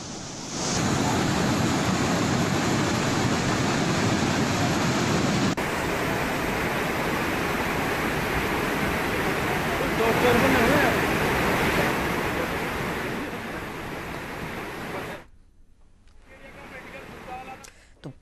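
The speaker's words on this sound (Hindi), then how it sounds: "किस खौफनाक अंदाज में मटमैली होकर ये नदी बह रही है" A muddy, flooded mountain river in Pithoragarh's Bangapani area rushes past as a loud, steady roar of churning water, continuous for most of the stretch before dropping away abruptly near the end.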